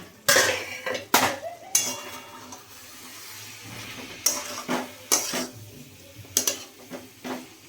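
Metal pot lid clanks and rattles as it is lifted off a pan of aloo posto, several sharp clinks and knocks spread irregularly with quiet gaps between, close by, no voices.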